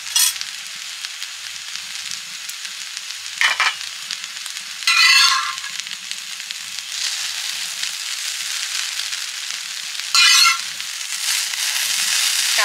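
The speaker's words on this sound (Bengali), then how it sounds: "তাওয়াতে বলেই কিন্তু ফ্রাইটা দারুণ হচ্ছে, কোনো লাগার ব্যাপার নেই" Chicken fry pieces sizzling on a tawa with egg-tossed noodles for egg chicken chowmein, a steady close hiss broken by several sharp louder bursts of stirring and crackle.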